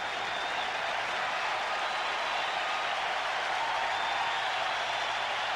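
A baseball stadium crowd at the 1992 World Series, Atlanta Braves at the Toronto Blue Jays, roars continuously with steady cheering and clapping hoping for a strikeout, a dense, loud wash of sound.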